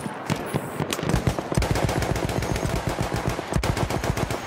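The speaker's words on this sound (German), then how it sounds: "Feindliches Maschinengewehr!" Enemy machine gun fire in Battlefield 1, a rapid, steady stream of loud close shots hammering on without a break for several seconds, with a brief pause and flurry near the end.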